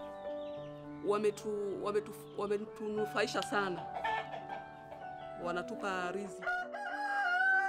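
Egg-laying chickens cluck and a rooster crows in repeated bursts from nearby, with a person talking over and between the calls.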